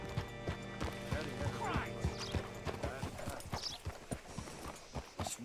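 Horse hooves clip-clop in a steady rhythmic walk, close by, in Red Dead Redemption 2, over a low ambient hum with a brief whinny-like sound partway through.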